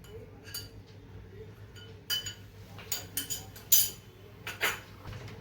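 Chicken being mixed by hand with yogurt, garam masala and a ginger-garlic-chilli-coriander paste in a bowl, giving scattered soft clinks and scrapes of utensil on dish over a low steady hum, with no voices.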